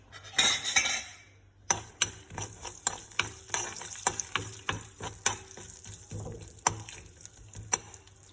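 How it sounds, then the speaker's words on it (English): Salted, already-fried peanuts are stirred in a pan with a spoon, giving a string of sharp metallic clinks and scrapes over a soft frying hiss. "So we have to fry these peanuts for 1 to 2 minutes because this is already fried and salted peanut."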